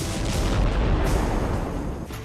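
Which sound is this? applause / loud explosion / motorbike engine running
loud explosion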